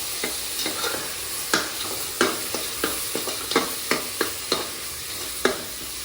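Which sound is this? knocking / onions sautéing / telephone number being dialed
onions sautéing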